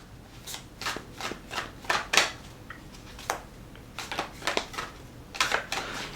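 Tarot cards are shuffled and drawn by hand, a close series of crisp riffling flicks and light slaps in uneven bursts, with no talking.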